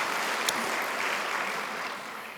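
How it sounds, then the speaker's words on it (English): A plenary audience claps in a dense, sustained round of applause that tapers off gently at the end, with no talking over it. "Let's give him a round of applause for doing just that."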